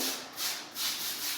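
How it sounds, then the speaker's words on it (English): A concrete floor being ground down before epoxy, a rough, hissing abrasive scrape that swells and fades in short passes, fairly faint and without talk. "I'm fucking grinding concrete"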